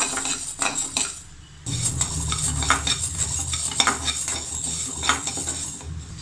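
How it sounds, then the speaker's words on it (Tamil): Split moong dal dry-roasts in a pan for sweet pongal, with a spoon scraping and stirring steadily, small clinks of metal on metal and a light sizzle, close and continuous. "இப்போது இந்த அரை டம்ளர் பாசிப்பருப்பு எடுத்து வச்சுருக்கோம் இல்லையா இதை வந்து நம்ம நல்லா வாசனை வர வரைக்கும் வறுத்துக்கலாம்"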